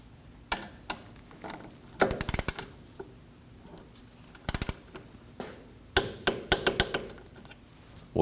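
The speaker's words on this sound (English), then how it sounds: "we can torque the ball joint pinch bolt to 37 foot-pounds" Ratcheting clicks of a torque wrench tightening the ball joint pinch bolt to 37 foot-pounds on a 2003-2006 Subaru Baja, coming in several close bursts of rapid clicks separated by short pauses, with no talk.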